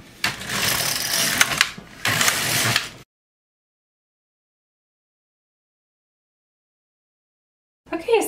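A carriage pass on an LK150 knitting machine knitting the bodice of a lace dress, two loud bursts of mechanical rattling and sliding in the first three seconds, then silence before a brief return of the sound at the very end.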